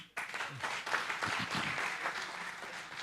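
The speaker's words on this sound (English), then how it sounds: "Wouldn't you rather clap for him?" An audience at an association's tenth anniversary and new member induction applauds, a steady, fairly distant and soft round of clapping that holds level for a few seconds.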